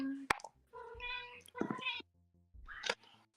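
Squeaker, a 13-year-old female pet cat, gives a few short meows near the microphone, mixed with people talking.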